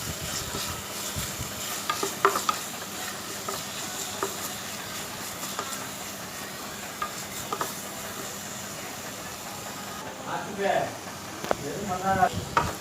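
Salt being stirred into a mutton pizza mixture in a pan: steady scraping and gentle sizzling run throughout, with a few sharper clinks and a brief burst of louder activity near the end.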